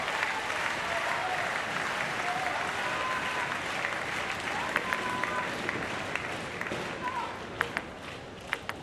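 Spectators at a Paralympics match in Paris applaud and cheer in a continuous roar from a large arena, with sharper claps and shouts cutting through and a commentator talking over it.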